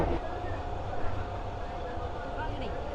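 A super fast local train runs from Bardhaman to Howrah, its steady rumble and rolling wheel noise filling the carriage continuously, with a voice faintly under the din.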